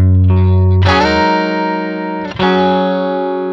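An electric guitar played in the style of a classic song, with a thumb slide up into a sustained, effects-laden chord: a brief low note, a sliding swell into a ringing chord, a short break, then the chord returns and rings on.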